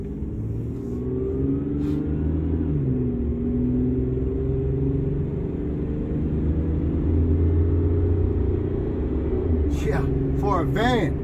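A 2000 Mazda MPV van pulls away and accelerates with a steady engine drone that rises in pitch, heard from inside the cabin, with a brief voice near the end.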